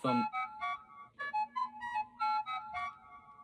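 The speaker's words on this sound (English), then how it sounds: "don't mind that, that's just my phone" A mobile phone ringtone plays a bright, repeating melodic pattern of short chiming notes, fairly quiet and alone with no talking.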